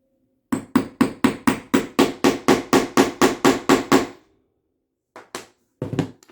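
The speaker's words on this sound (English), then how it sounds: "grab a hammer and you're going to pound lightly with the hammer." A hammer pounds a concave setting tool onto a bag stud in about fourteen quick, even, sharp taps, then pauses before a few more scattered strikes.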